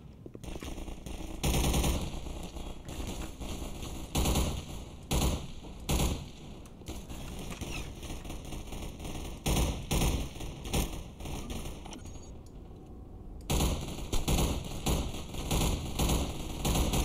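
Rapid automatic gunfire in the video game Hunt Down The Freeman, with loud close bursts of shots repeating in quick volleys and brief pauses between them.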